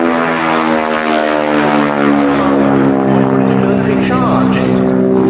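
A 1938 Spitfire Mark IIB propeller fighter flying at a Battle of Britain airshow at Duxford, giving a loud, steady droning engine roar with strong harmonic tone that holds throughout, with faint voices underneath.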